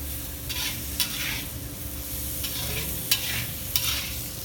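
Cauliflower and tomatoes with cumin, coriander and salt cooking in a pan, a steady low sizzle with a few sharp stirring scrapes and clinks at intervals, close and fairly quiet, no talk.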